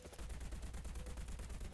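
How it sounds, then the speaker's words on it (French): Rapid automatic cannon fire from a Tunguska in War Thunder, a steady string of loud, evenly spaced booming shots with no talk over it. "On refait un petit coup de canon"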